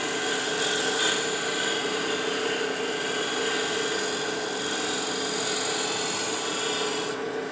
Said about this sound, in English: you can come in and do a shear scrape to get rid of any ridges that you've got there